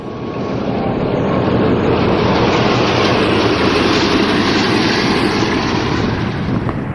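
Class 45 diesel locomotive hauling a northbound Leeds–Carlisle train away from a signal check at Guiseley Junction near Shipley, a loud, steady, close engine roar mixed with rail rumble that holds without a break, and no voices.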